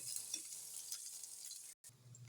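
Ingredients such as ginger being sautéed in a pan for a dish, a steady, faint hiss of sizzling oil with light stirring, briefly cut off near the end, no talk.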